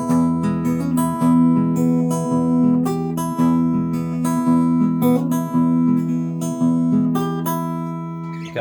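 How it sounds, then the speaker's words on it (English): A guitar plays a simple, melodic 12-bar blues with finger-picking, using a repeating four-note pattern. Clear plucked notes ring over a steady bass line, close and alone, with no voices. "some simple finger picking blues"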